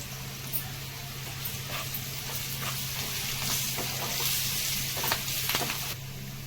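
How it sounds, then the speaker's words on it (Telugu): Sliced bitter gourd frying with curry leaves in a pan makes a continuous close sizzle, with repeated spatula stirs and scrapes against the metal and a steady low hum underneath, with no speech. "కాకరకాయ అయితే ఫ్రై అయిపోయిందండి."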